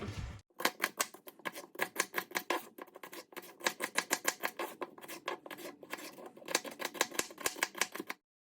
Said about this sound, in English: I will probably use 2 celery stalks. And so I'll get those cut up.